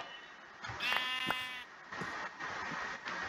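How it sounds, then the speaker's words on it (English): Sheep bleat in the video game Minecraft, two or three short wavering calls heard in succession, fairly quiet and alone with no talking. "I only see white sheep around here."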